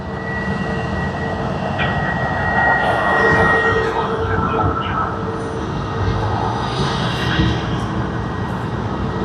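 An airliner with a mismatched white nose cone at Sydney Airport, heard as a steady, loud engine roar with broadband rumble and a high whine holding throughout.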